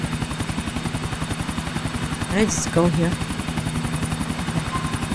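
Helicopter flying in the GTA 4 video game, a loud rhythmic rotor thumping throughout while a person speaks briefly over it.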